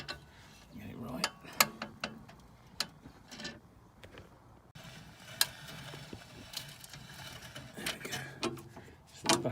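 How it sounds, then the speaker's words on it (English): Jacking up a Mercedes A207 E-Class rear brake assembly during a brake replacement, with a series of sharp mechanical clicks and ratcheting knocks, close and irregular, against quiet background rustle. "Keep jacking it up and this will line up again."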